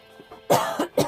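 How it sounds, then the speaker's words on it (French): A person lets out a short burst of coughs, two or three rough, close hacks in under a second, with nothing else heard. "je commence à tousser dans toutes les vidéos"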